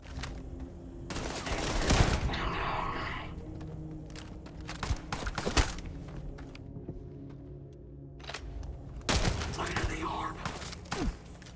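Gunfire in the video game Starfield: dense bursts of rapid automatic shots and thuds in two main volleys, with scattered single cracks between them, loud and close.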